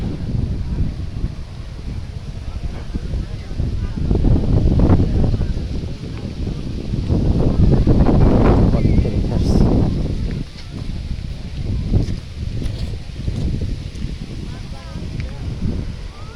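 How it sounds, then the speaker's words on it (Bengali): Wind gusts across Thakur Beel wetland in Kalukhali, Rajbari, a steady roar with louder surges midway and near the end, close to the microphone. "অনেক সুন্দর বাতাস।"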